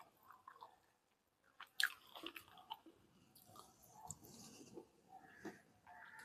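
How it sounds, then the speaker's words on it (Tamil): Close, soft chewing and crunching of fried Chettinad-style chicken, with a sharper bite near the start followed by irregular mouth sounds and light breathing, no talk. "சிக்கன் ஃப்ரை சாப்பிட்டு பார்க்கலாம்."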